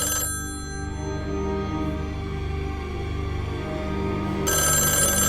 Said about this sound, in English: what would that do with the phone ringing?